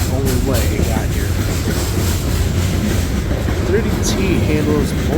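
A freight train led by a BNSF locomotive rumbles past on the New York Central line in New York State, with steady loud rolling noise and faint wheel clatter throughout.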